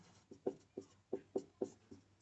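Chalk or marker strokes on a board while writing physics notes, a quick series of six or seven short tapping scratches in an irregular rhythm, close and fairly faint with no speech.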